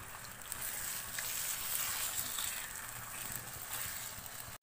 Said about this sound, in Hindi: चिकन को मैंने हाई फ्लेम पे फ्राई कर लिया है